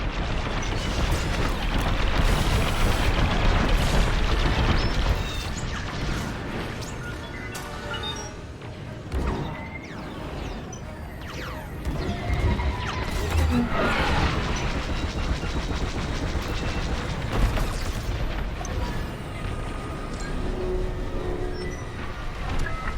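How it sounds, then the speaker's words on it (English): Incoming laser fire and explosions in the space combat game Star Wars Squadrons, a dense, loud, continuous rumble of blasts, booms and engine roar lasting over twenty seconds, with scattered sharp impacts throughout. "Taking fire!"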